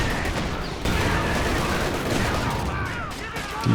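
Machine gun fire in the World War II strategy game Company of Heroes 2 crackles continuously amid dense battle noise, with rapid bursts and explosions layered close and loud throughout.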